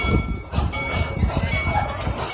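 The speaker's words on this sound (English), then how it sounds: "We're now making our way into the Nairobi train station." A train pulling into Nairobi train station rumbles and rattles with a low rhythmic clatter and a faint steady whine, close and continuous through the short stretch.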